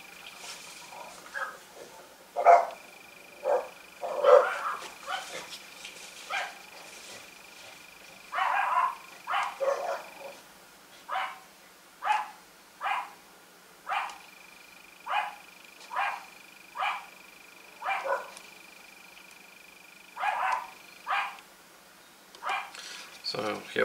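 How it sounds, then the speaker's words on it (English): Neighbor's dog barking repeatedly in the distance, steady single barks at fairly regular intervals, muffled and moderately faint, with a quiet background hum. "So here we have the neighbor dog. The background noise."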